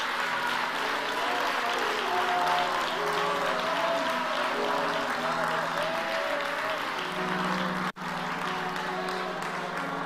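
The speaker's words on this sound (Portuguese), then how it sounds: "As palmas são para Jesus" Church congregation clapping together in sustained, dense applause that stays loud and steady, with a voice speaking over it and one brief dropout near the end.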